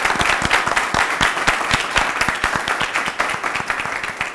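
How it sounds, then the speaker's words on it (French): A studio audience at a television show breaks into loud applause, with many hands clapping together and individual sharp claps standing out, fading slightly toward the end. "Je vous demande de vous applaudir très fort."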